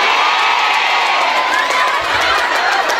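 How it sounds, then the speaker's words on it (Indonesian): A large crowd at a religious gathering in a mosque in Cikarang cheers and applauds for Perhamus Bekasi, a loud, dense, steady roar of cheering with clapping. "Tepuk tangan buat Perhamus Bekasi, luar biasa"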